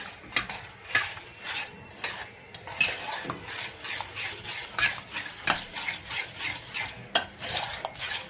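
A spoon scrapes and clinks against a pan while stirring potato vada mixture, repeated rhythmic strokes roughly every half second, close and clear with no voices.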